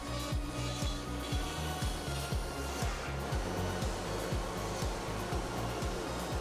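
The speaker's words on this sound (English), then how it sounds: "A little vacuuming and a quick inspection" A vacuum sucks wood dust off a freshly carved wooden plaque. Its quiet whooshing airflow is broken by regular pulsing strokes as the nozzle sweeps back and forth across the surface.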